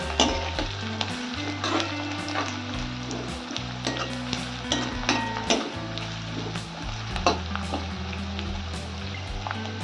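Onion sautéing in a pan until golden, a steady dense sizzle with scattered crackles and occasional stirring scrapes, continuous and close throughout with no voices.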